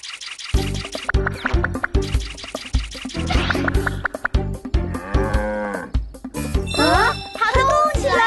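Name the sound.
cartoon water buffalo mooing and running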